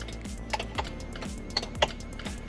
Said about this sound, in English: I can hear the door windows clicking, the window switch clicking